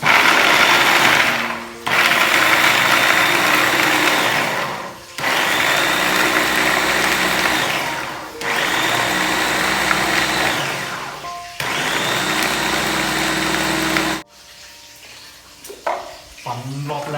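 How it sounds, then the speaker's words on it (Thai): An electric blender whirs loudly through a chili dipping sauce in several long bursts separated by brief pauses, then stops, leaving quieter clinks and handling sounds. "ปั่นรอบแรกก่อนแล้วมาใส่มะพร้าว"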